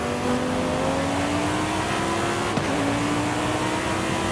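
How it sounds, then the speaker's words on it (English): Car exhaust from a racing game, Forza Horizon 5, a steady loud engine drone whose pitch climbs gradually as the car accelerates, with one brief shift blip midway and no talk. "Listen to the exhaust."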